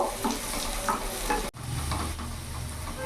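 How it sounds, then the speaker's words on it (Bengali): Chopped garlic and green chili fry in hot oil, a dense, close crackling sizzle with stirring scrapes, briefly cut off by an abrupt break before the hiss resumes; no speech. "একটু ভাজা ভাজা করে নিয়েছি"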